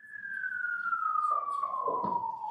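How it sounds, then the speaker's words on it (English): A siren wails in a courtroom during a murder trial, one long steady tone that slides slowly downward as it carries in from outside, with brief muffled rumbles and background noise beneath it. "One sec for that siren."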